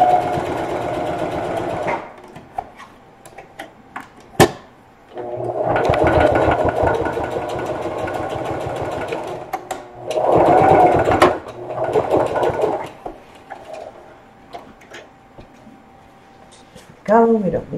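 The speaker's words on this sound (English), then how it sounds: "Back stitch." A sewing machine back-stitches a lunch tote bag, running in several loud close bursts of rapid rattling stitching separated by pauses, with someone talking in between.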